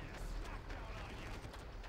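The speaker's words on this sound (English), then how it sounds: "There's gunfire in the distance." Distant gunfire in the video game Far Cry, a continuous crackle of shots and rattling bursts mixed into busy game ambience.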